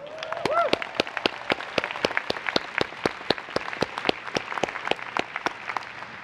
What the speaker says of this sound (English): So let's have one more round of applause